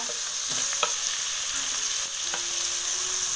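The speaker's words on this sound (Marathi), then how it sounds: "हा जो कांदा आहे ना चांगला असा लाल करून घ्यायचा" Onion frying in hot oil with chillies and curry leaves in a pan on a wood-fired stove, a steady close sizzle with a few soft stirring taps, no talking.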